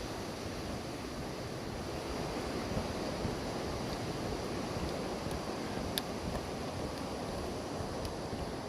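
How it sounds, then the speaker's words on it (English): River rapids along a mountain trail near Mount Shasta, a continuous broad rushing roar of water, steady and fairly loud with no breaks, blended with some wind noise. "Rapids up there."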